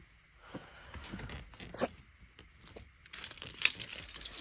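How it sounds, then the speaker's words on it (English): Metal house keys jangle and clink in irregular bursts, picked up and shaken close by, with rustling and handling noise between the jingles, no talk. "Oh my god, I found my keys."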